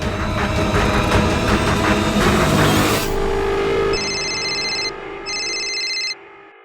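A loud roaring noise gives way to an electronic telephone ring sounding in two distinct bursts with a short gap between.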